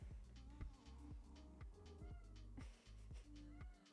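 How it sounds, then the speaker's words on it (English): A cat meows repeatedly in drawn-out, insistent cries, fairly faint and slightly distant, one after another with little pause. "He just like keeps on meowing."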